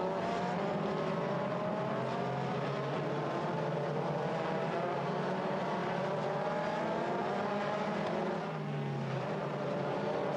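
Race cars battle for position on the Portimão circuit, engines screaming continuously as one overtakes another, the high revving note rising and falling through the gears without any voices.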